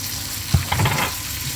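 Bihon and sotanghon noodles being stir-fried with soy and oyster sauce sizzle steadily in a hot pan, with a couple of stirring clatters near the start.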